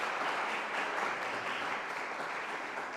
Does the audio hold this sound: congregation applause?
yes